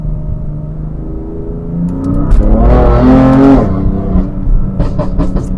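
A BMW F80 M3 pulls hard under acceleration, its engine note swelling loud and climbing in pitch before easing back, heard close with no talking over it.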